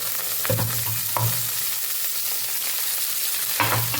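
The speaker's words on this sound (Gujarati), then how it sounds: "અહીંયા આપણે લીલા ધાણા ઉમેરી દઈશું" Sesame seeds, peanuts and fresh green coriander sautéing in a pan for coriander chutney, a loud steady sizzle with three scraping stirs, close by and no talk.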